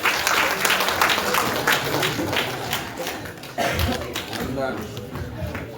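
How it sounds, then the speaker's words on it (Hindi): Sustained loud applause from a gathered audience at a swearing-in ceremony of newly elected office bearers of the Dangi Sanskriti Vikas Sangh in Ranchi, dense clapping continuing throughout with voices mixed in. "हम जोरदार से ताली देंगे"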